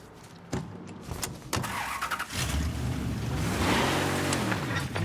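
Car in the video game Mafia 3, heard as a steady engine hum with a rising rev and brief clunks, fairly close and loud, with no talk.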